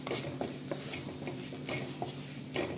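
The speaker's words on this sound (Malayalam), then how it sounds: "മല്ലിപ്പൊടി കറിവേപ്പില ഇത്ര ഇട്ടിട്ട് നന്നായിട്ടൊന്ന് മിക്സ് ചെയ്തെടുക്കാം" Coriander powder and curry leaves are stirred into a fish curry base in a frying pan: a soft sizzle under repeated scraping and tapping of a spoon against the pan, close and uneven in rhythm.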